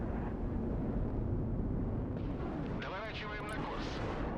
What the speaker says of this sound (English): I try starting with a nuclear cruise missile.